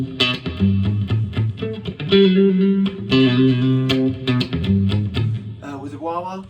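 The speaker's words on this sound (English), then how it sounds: "with the wah-wah" Distorted electric guitar with overdrive, reverb and a sweeping, vocal-like wah-wah pedal tone, loud and close, playing a riff with effects.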